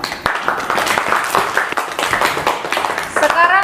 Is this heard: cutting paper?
no